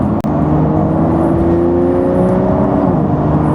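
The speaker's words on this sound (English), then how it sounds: "There's definitely a bit more grunt to that exhaust." The exhaust of a base Porsche 992.2 Carrera grows louder and climbs in pitch as the car accelerates, a close, continuous engine drone with no talking.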